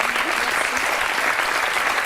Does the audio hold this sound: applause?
yes